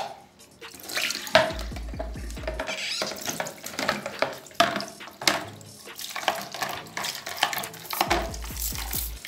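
Running tap water splashes over a hairbrush being rinsed clean, with an uneven, gurgling flow and brief handling knocks close by. There is no talking.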